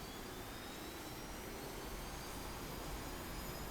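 A JAS 39C Gripen jet engine spools up to military power in a flight simulator game, a steady, loud broadband roar with faint high whine tones, continuous and unbroken with no talk.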